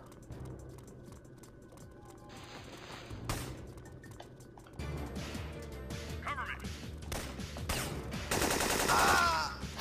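Video game gunfire lays down cover fire in rapid machine-gun bursts that get loudest toward the end, with spoken commentary running over them.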